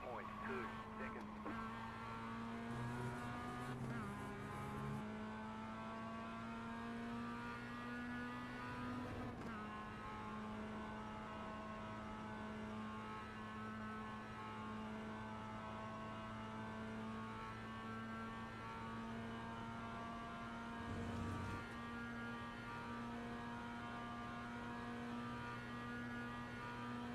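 Race car engines in the No More Heroes 2 video game, a steady sustained engine drone with slow pitch shifts and occasional gear changes, under a speaking voice.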